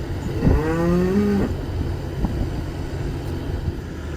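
A cow gives one loud, close moo with a rising then sustained tone, followed by quieter shuffling against steady outdoor background noise.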